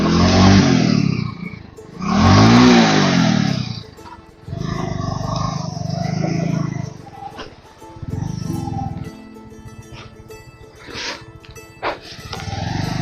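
A motorcycle engine with a stuck gear revs hard in loud, rising and falling surges, close by on a ride toward Mana village in Uttarakhand, then settles into rougher idling with scattered clatter.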